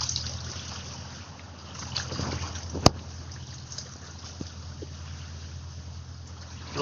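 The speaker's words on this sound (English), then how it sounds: "Little splashing action going on there, make it sound like the ocean." Waves from passing barges splashing and sloshing at the edge of floodwater, a steady soft wash of water with a sharp knock midway and faint low rumble beneath.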